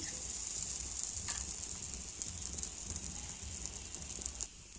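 Anganwadi Balamrutham flour roti cooking on a hot griddle pan, giving a steady, soft sizzle and hiss that runs throughout, close and fairly quiet, with a few faint clicks and no voices.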